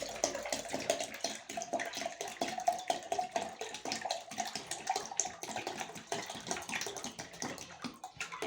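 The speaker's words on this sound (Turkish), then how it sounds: "suyumuzu boşaltalım" Water is poured out of a container of curing olives in brine, a faint continuous splashing and trickling with small irregular bursts, heard close and alone with no talking.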